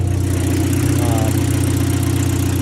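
A 1984 Volvo 245 Turbo idling steadily, a smooth, even low rumble with a regular pulse, close and alone with no talk.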